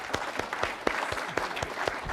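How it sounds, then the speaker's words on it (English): Audience applause at a public event on resilient infrastructure, a steady wash of many hands clapping with a few sharper claps standing out, fairly loud and continuous. "join me in giving him a round of applause"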